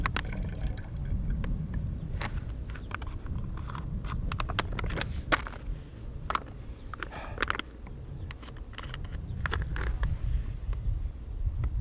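Cold water trickles and splashes as a drink bottle is topped up outdoors in the desert, a steady close pour with a few brief clinks over a low background rumble.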